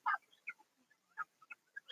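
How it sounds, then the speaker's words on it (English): Ducks, geese and chickens on a farm make faint, scattered short calls and clucks, spaced irregularly with quiet gaps between them. "I think this is all of the ducks, the geese, and the chickens right now."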